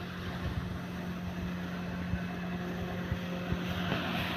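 A paddy threshing machine runs in an open farmyard piled with rice, a continuous low mechanical drone with a steady hum and faint rumbling thumps, no voices.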